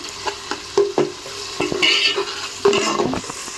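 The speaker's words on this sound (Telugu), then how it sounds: "ఆయిల్ కొంచెం మగ్గిన తర్వాత టమాటో ఎర్రగడ్డ బాగా మనకి నూనెలో వాడుతుందండి" Tomato and onion frying in oil, heard as close spatula strokes against the pan over a crackling sizzle, in short irregular bursts.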